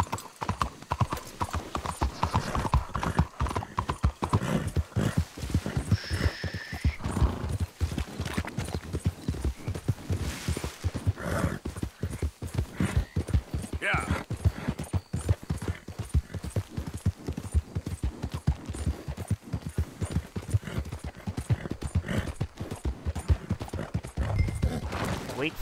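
Hooves of a horse in Red Dead Redemption 2 clop steadily at a brisk pace for the whole stretch, close and prominent, with occasional snorts and faint game ambience.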